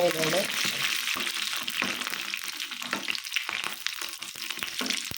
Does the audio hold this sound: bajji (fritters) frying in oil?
yes